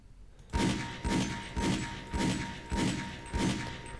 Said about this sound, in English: So just shoot the inner circle a lot. That's as fast as you can shoot it.